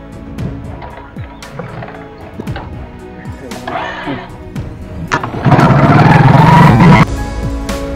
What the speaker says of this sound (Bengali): এই বাইকটাকে এখন আমি স্টার্ট দিয়ে দেখাচ্ছি